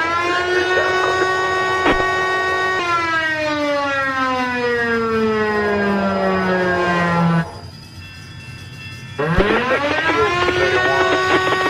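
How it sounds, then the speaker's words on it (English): A loud, wailing air raid siren used as a railroad crossing warning instead of a bell, with a rising and falling pitch, briefly dipping to quiet before winding back up, heard close by. "had an air raid siren equipped on it instead of a regular railroad crossing bell"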